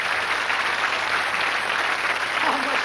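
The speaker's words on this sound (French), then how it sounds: "Je vous demande d'applaudir cet homme exceptionnel" A studio audience applauds a stage magician on a television show, a continuous even wash of clapping from a large crowd, moderately loud and unbroken by speech.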